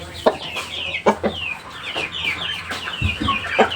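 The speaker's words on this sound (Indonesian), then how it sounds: "Ayam ini ngorok" A Bangkok gamecock with snot or flu, clucking and making short rough calls up close, with scattered quick bursts and a raspy, congested quality running through the sound.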